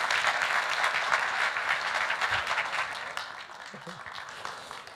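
Audience applause at a service presentation event, a steady wash of clapping that fades slightly after a few seconds, with faint voices beneath.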